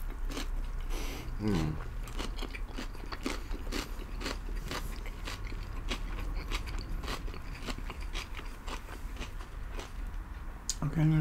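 Sticky rice being chewed close to the mic during a Thai and Lao food mukbang, with a steady run of soft wet bites and crunches and a murmured sound of approval.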